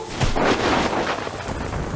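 Thunder rumbles through a rainstorm as lightning strikes, a loud, sustained roll lasting the whole moment with no one speaking over it.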